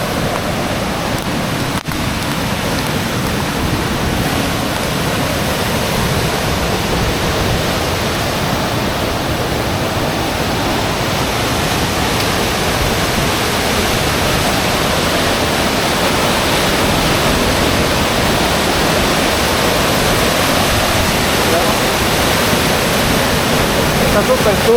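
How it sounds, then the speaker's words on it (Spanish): Turbulent, muddy river water rushing past at full force, a dense, loud and unbroken roar close by that lasts the whole time with no pauses. "Cuidado porque está muy brava el agua."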